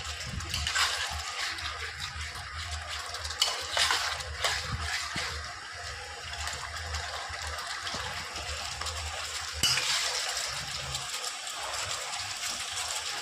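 Spice paste loosened with a little water for a mixed-fish chorchori is stirred in a pan, producing soft, wet sloshing and scraping strokes. It is fairly faint, with a few louder stirs.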